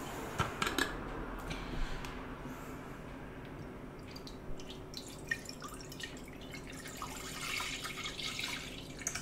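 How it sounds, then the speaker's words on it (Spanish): Milk for Greek yogurt pours into a pot as a soft, steady liquid trickle with small drips and splashes, close and quiet throughout. "Echamos la leche."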